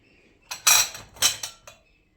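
Dishes clink and clatter in a few quick bursts as plates and cutlery are unloaded from a dishwasher nearby, with no voices.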